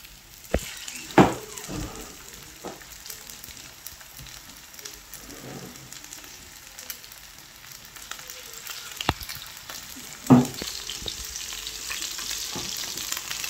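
Fish pieces sizzle in hot oil in a frying pan, a steady crackling hiss broken by a few sharp louder pops and scrapes, close and with no talking.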